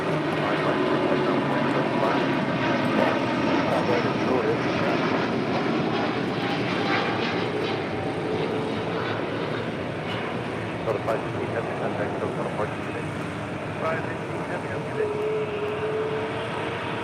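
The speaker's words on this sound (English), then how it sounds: "That was the Delta flight heading to Atlanta, Georgia, that A350." A Delta Airbus A350 jet bound for Atlanta passes overhead with a sustained, loud engine roar that slowly fades over many seconds, with people talking underneath.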